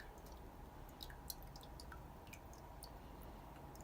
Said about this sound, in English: Just let it drip.